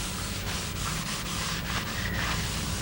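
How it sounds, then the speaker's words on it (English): Paste wax rubbed by hand onto the cast-iron top of a table saw, a steady close scrubbing and rubbing sound with rhythmic strokes, no voices. "Wax the top and miter gauge slots with a good furniture grade paste wax."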